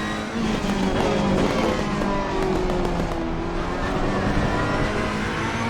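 A Ferrari race car in a racing video game, its engine roaring loud and continuous, revving steadily throughout with no talking.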